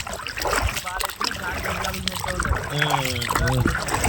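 Wind-driven waves wash and splash against the water around a small fishing boat, a continuous rough sloshing with gusty noise, while people talk loudly over it throughout.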